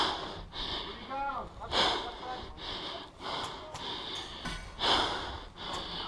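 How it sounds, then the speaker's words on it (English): Heavy, rhythmic breathing from a player during outdoor airsoft gameplay, with deep inhales and exhales repeating every second or so, close to the microphone, alongside brief bits of talk. "Man, I'm just breathing."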